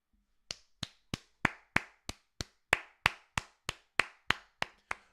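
One person claps slowly in salute of pitcher Savage during a Blue Jays vs Mariners ALCS Game 6 watchalong: about fifteen sharp, evenly spaced claps, close and crisp against silence.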